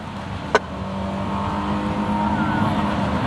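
A loud, noisy car engine idles with a steady low rumble and a faint whine above it. A sharp click comes early, then the drone holds even and continuous at a moderate distance.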